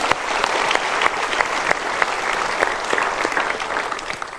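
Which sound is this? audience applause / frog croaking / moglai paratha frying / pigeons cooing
audience applause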